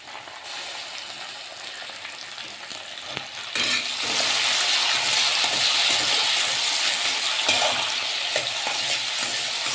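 Onions, tomatoes and spices sizzle and fry in a pan while being stirred, a steady hissing sizzle that jumps louder partway through, with stirring scrapes throughout.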